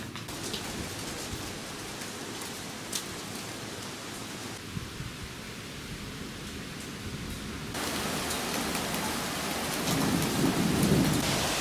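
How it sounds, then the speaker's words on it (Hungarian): Steady rain pours outside an abandoned Hungarian postal holiday resort, a dense continuous hiss that swells louder near the end, with occasional low rumbles and no voices. "akkor esik az eső"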